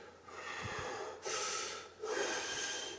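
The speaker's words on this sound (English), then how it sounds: "The person that's short of breath might do pursed lip breathing" Breathy, close-up pursed-lip exhalations during an asthma attack, three long hissing outbreaths in steady succession, each with a sharp onset and no talking.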